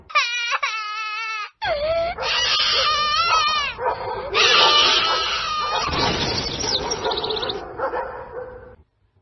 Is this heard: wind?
no